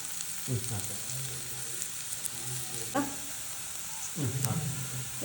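Chopped green chillies and curry leaves hit hot oil with ginger garlic paste, giving a constant crackling sizzle up close, with three distinct stirring scrapes spaced a couple of seconds apart.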